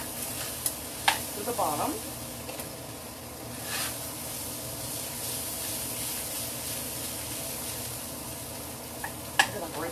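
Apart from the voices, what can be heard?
stirring food in a pan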